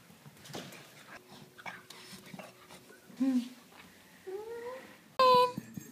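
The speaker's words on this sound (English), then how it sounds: "That dog is fucking crazy." A puppy makes whimpers and short yelping, whiny cries in scattered bursts, close and fairly loud, with a sharp high yelp near the end and people talking around it.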